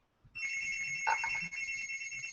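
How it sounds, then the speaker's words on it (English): A telephone rings steadily with a bright electronic trill, close and fairly loud, continuing without a break. "the phone's ringing again"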